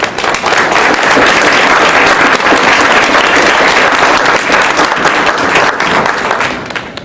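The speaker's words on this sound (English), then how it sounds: "Let's give a round of applause for all the candidates." A forum audience gives loud, sustained applause for the candidates, dense clapping filling the room before tapering off at the end.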